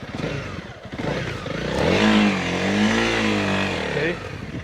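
A Honda CRF300L Rally motorcycle pulls away in first gear, its engine revving up close and loud in a rising, wavering note that holds for a couple of seconds, then eases off.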